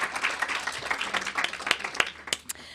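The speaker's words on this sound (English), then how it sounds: "I could just say anything and you guys will clap." Audience at an immigration and women's rights event breaking into applause, a moderate patter of many hands clapping with some louder individual claps toward the end.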